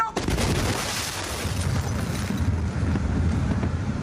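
A huge explosion of over 2,000 tonnes of ammonium nitrate at the port of Beirut roars as a loud, sustained rumbling blast with wind-battered microphone noise, filling the whole stretch without talk.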